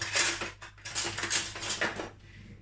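A metal spoon being picked up in a kitchen, producing a few close, bright clinks and rattles of cutlery against dishes in quick irregular bursts, with no voices.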